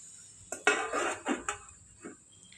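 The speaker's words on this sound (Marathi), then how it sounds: "आता आपण झाकण ठेवूया यात।" A metal lid is set onto a cooking pot on a home stove while dal fry is being made. There are a few close, distinct clinks and clanks of metal on metal over about two seconds.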